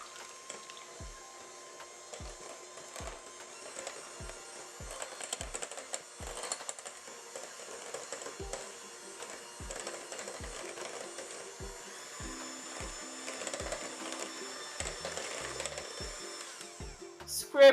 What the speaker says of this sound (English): Add the eggs one at a time with about 30 seconds of mixing for each one.